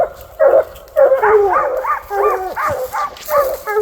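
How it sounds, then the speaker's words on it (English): Hunting hounds bark excitedly at a bear treed in the British Columbia wilderness, a close, loud run of overlapping barks, yips and whines in quick bursts, with a brief lull early on. "They're barking."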